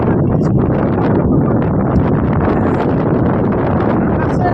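Evening wind sweeps across an open field, buffeting the microphone in a loud, continuous rumbling roar that fills the whole stretch with no letup.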